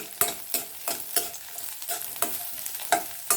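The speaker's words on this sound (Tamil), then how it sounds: "இது பூண்டும் வெங்காயமும் மட்டும் கொஞ்சம் நல்லா வதங்கணும்." Garlic and onion sauté in a pan, a soft sizzle under regular scraping stirs about every third of a second, close and fairly quiet with no voices.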